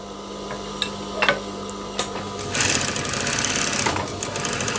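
A sewing machine runs a seam along a rib collar joint on a garment, with short bursts and clicks first, then a steady, close whirring run of stitching through the last couple of seconds.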